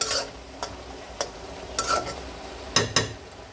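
Mushrooms half-cooked in hot oil, stirred with a utensil: a soft sizzle runs under a few sharp scrapes and clinks, close by and fairly quiet, no voices.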